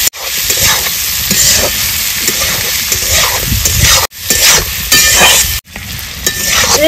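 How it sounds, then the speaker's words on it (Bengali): Turmeric, salt and slit green chillies sizzling loudly in a pan for a village-style rohu fish curry, a continuous hiss broken by two short gaps and stirring scrapes throughout. "হলুদ গুঁড়ো, চিড়ে রাখা কাঁচা লঙ্কা, সব দিয়ে 2-3 মিনিট মতো একটু আমি নেড়ে চেড়ে নেব।"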